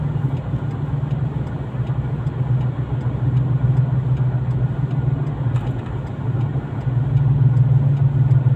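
Light road traffic in Talibon, Bohol, in the Philippines. Car engines give a steady, fairly close low drone with a constant hum that swells slightly near the end, and no voices are heard.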